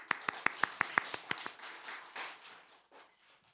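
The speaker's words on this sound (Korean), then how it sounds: "우리 하나님께 감사 박수 해드립시다." A church congregation at an autumn revival meeting gives thankful applause, starting as a run of sharp, evenly spaced claps that soon fade into a softer, scattered patter and trail off.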